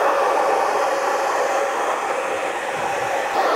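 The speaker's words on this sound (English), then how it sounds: "Just drying it throughout. High speed, high heat." A hair dryer on high speed and high heat blows hair dry during a barbershop undercut, giving a steady, loud, close whooshing roar that lasts throughout.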